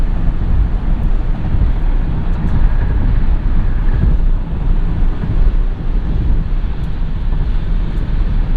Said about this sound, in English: Wind noise isn't too bad for something that has the aerodynamics of a brick.